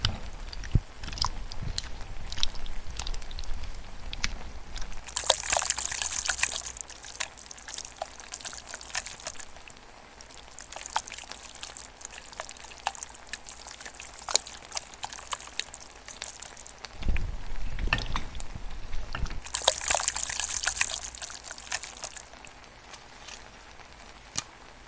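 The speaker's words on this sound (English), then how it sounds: "So now we're ready to fill the jars." Hot chunky salsa being poured and spooned into canning jars, with wet pouring and glopping bursts and soft clinks of utensils, close and moderately loud, no talk.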